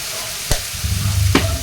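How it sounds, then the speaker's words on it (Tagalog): Ground pork being fried and stirred with seasoning in a pan, with a loud close sizzle and two sharp scrapes of the utensil against the pan. "Haluin para ma-mix ang ating mga nilagay na mga seasoning sa ating giniling."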